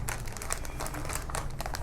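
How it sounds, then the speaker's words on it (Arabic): A plastic gel pack is slid into an extra plastic bag, giving a steady run of close crinkling and rustling plastic throughout. "هندخل كيس الجل داخل الكيس الاضافي عشان نضمن ان ما يبقاش فيه تسرب"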